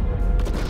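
Rocket breaking apart during the Fortnite end-of-season event, heard as a sustained low rumbling crash with dense bass and scattered crackling, loud and continuous for under a second with no talk.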